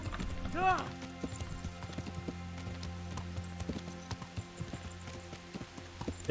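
Horse hooves clip-clop in an unsteady rhythm in the medieval video game Kingdom Come, with a short neigh near the start and soft game background sound underneath.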